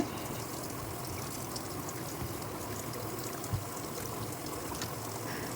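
Pearl millet grains are washed in water in a kitchen, a steady, continuous swishing and trickling of water running throughout at moderate level, with no talking.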